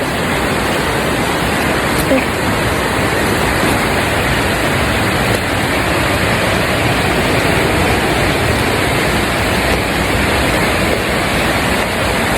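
Steady, loud rushing water at a mountain bathing spot on Mount Banahaw, a broad unbroken roar of flowing stream or falls filling the whole stretch with no voices over it.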